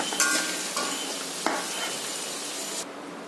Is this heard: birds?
no